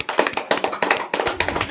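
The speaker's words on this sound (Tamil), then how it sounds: "சரி கை தட்டுங்க" A group of people clapping their hands at a Women's Day celebration, the applause quick and uneven in bursts, mixed with voices talking.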